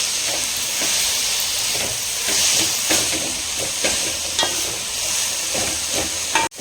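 Coriander and mint sauté in a pan over a high flame with a constant bright sizzle and hiss. Repeated scraping stirs of a utensil break through, and a sharp clack comes at the end.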